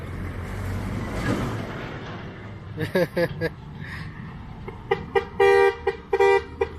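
A vehicle horn gives several short, loud honks, clustered near the end, at a site where a SANY SY135C excavator is being loaded onto a trailer, with someone talking and engine rumble underneath.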